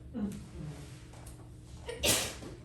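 A single sharp sneeze bursts out near the end, loud and close, following a few quiet murmured sounds.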